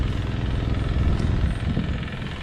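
A farm engine pumps water from a stream in rural Baggao, Cagayan, Philippines, with a steady, close, low chugging rumble and no talk over it.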